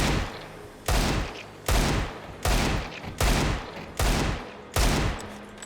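Seven sharp pistol shots in CS:GO, fired with rage aim at a fairly even rhythm, each one loud and close, followed by a short decay, with no talking over them.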